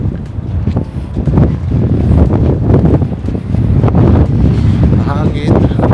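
Strong wind gusts at the Port of Helsinki buffet the microphone with a loud, continuous rumbling roar.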